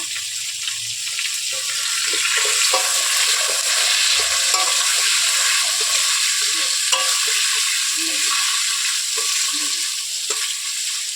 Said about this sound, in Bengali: পাঁচ মিনিট ধরে আলুটাকে ভালো করে ভেজে নেব